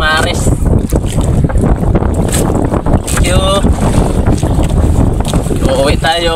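Loud, steady wind roars and buffets the microphone throughout, aboard a motorboat, with the boat motor and water underneath and brief bits of a voice.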